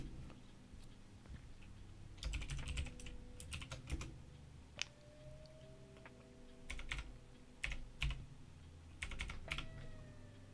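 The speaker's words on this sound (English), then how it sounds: "Ignore my loud typing." Quick bursts of computer keyboard typing, crisp key clicks in irregular clusters separated by short pauses, close by in a quiet room.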